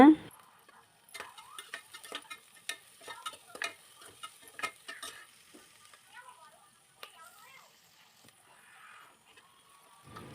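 Onions sizzle in a pan with a bay leaf, cloves, cardamom and cinnamon while a spoon stirs and scrapes in quick, irregular bursts.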